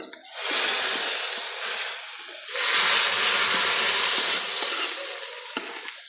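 Fried onion tempering poured into a pan of dried fish curry sets off a loud, steady sizzle and hiss that surges again midway, with faint stirring clinks and no talk.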